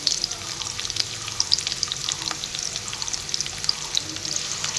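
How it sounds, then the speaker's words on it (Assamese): Onion, chilli and garlic fry in hot oil in a wok with a steady, dense sizzle and crackle. Faint stirring clicks run through it, and no one speaks. "তেলখিনি ধুনীয়াকৈ গৰম হৈছে ইয়াতে এতিয়া পিঁয়াজ জলকীয়া আৰু নহৰুখিনি দি দিছোঁ"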